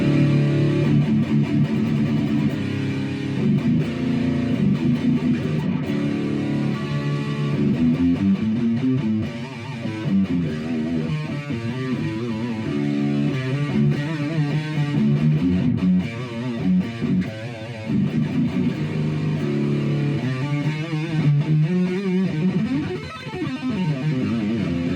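Heavily distorted electric guitar plays chugging metal chords and riffs straight into a Peavey TransTube 212 EFX amp with Blue Marvel speakers, thick and continuous, with no voices.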